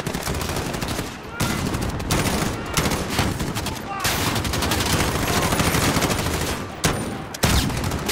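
Loud automatic gunfire in the video game Call of Duty: Modern Warfare comes in long rapid bursts broken by brief pauses, with voices faintly audible between the shots.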